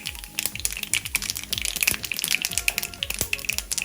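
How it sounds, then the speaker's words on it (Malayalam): Mustard seeds and dried red chillies crackle and spatter in hot coconut oil, a dense run of sharp close pops and sizzling bursts with no talk. "ചൂടാകുമ്പോൾ ഇതിലേക്ക് കടുക് ഇട്ട് കൊടുക്കാം, വറ്റൽമുളക് ഇട്ട് കൊടുക്കാം."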